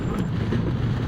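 Strong wind buffeting the microphone outdoors, a loud continuous low rumbling roar with no break and no voices.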